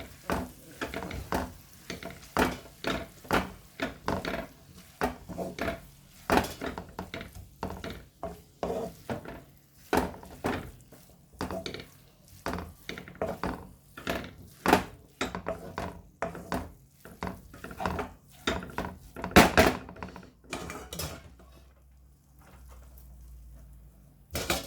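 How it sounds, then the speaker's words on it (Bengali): Chicken vermicelli noodles being mixed in a pan: steady rhythmic scraping and tossing strokes of a utensil against the pan over a soft sizzle, repeating for a long stretch before fading to a low hum, no voice. "এভাবে করে আমি সবগুলি মিশিয়ে ফেলবো।"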